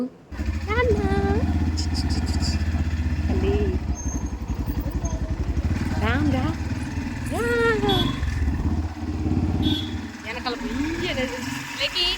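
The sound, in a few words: motorcycle ride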